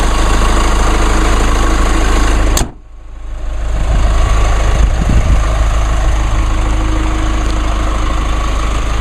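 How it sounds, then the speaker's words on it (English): Diesel pickup truck engine idling, a steady close low rumble with a fine ticking knock, briefly cut by a sharp click and dip before settling back to an even idle. "As you can hear, it's nice and quiet. Nice and quiet for a diesel engine."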